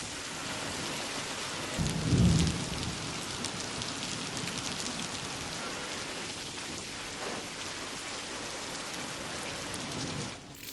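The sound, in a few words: monsoon rain with thunder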